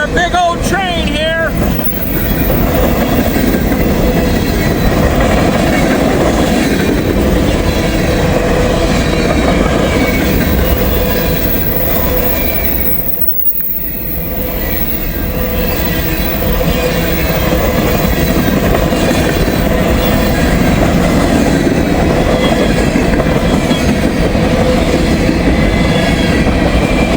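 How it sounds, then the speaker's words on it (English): Long, heavy freight train with double distributed power units rolling past close by, a loud sustained rumble and rhythmic wheel clatter continuing throughout with a brief dip midway, voices heard briefly over it. "We got our big old train here."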